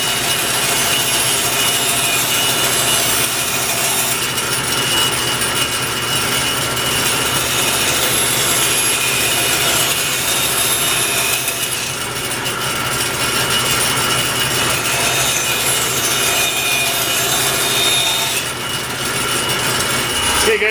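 A block plane shaves a wooden core stick in a continuous stream of loud, rasping strokes close to the microphone, steady over the whole stretch with brief pauses.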